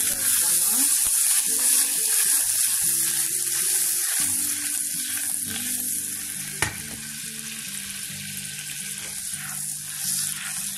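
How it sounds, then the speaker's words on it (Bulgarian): Butter, dill and potato sizzle and fry in a hot pot, a loud continuous crackling hiss close by with stirring scrapes and a sharp clink partway through, under faint background hum. "Сега към сгорещената тенджерка добавям маслото, копъра и картофа."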